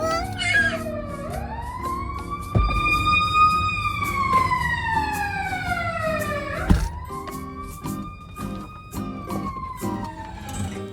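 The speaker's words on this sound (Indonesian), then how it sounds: "Dan inilah tanda yang akan berbunyi ketika jalanannya itu terbuka gitu ya teman-teman" Aboard a car ferry, a loud warning siren sounds as the vehicle deck ramp opens, with long wailing tones that sweep up and down in pitch, punctuated by a couple of sharp mechanical clunks.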